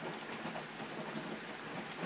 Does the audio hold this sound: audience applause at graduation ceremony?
no